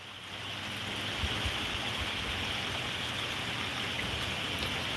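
Steady, dense rain pours down in a warm tornado-warned storm, a continuous broadband hiss close around with no voices.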